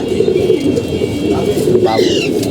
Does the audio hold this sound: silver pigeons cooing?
yes